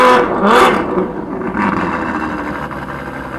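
At a Cars and Coffee meet in Morrisville, a car's engine is revved hard, a loud close burst of acceleration followed by a second, smaller rev that settles back toward idle.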